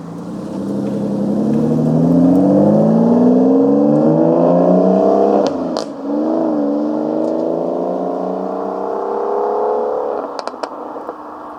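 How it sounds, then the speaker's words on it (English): A 2005 Aston Martin Vanquish S, the flagship GT built at Newport Pagnell, runs close and loud, its engine note climbing steadily through a long rev, dipping briefly, then holding a strong steady drone with a few sharp clicks near the end. "This is a 2005 Aston Martin Vanquish S, the flagship GT of the early 2000s"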